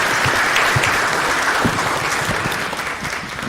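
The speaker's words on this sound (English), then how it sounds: "y'all give our panelists a big round of applause" An audience at a public meeting gives panelists a round of applause, steady clapping heard at moderate distance that gradually thins over a few seconds.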